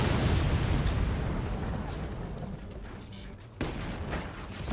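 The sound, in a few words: 20mm cannon exploding in the video game Forts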